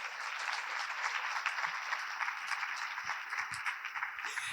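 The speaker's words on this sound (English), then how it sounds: "if we could give them a round of applause" An audience at the Women Shaping Our Region 2025 program gives a round of applause at the close, a steady dense patter of many hands that holds at an even level throughout with no talking over it.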